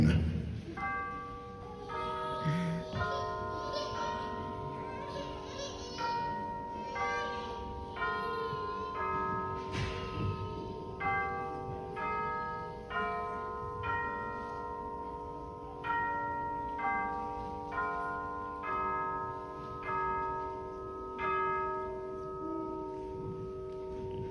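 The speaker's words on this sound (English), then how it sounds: "when you hear the Westminster chimes playing on my watch" Westminster chimes play on a watch in a steady sequence of bell-like notes, ringing clearly over a low background hum for over twenty seconds.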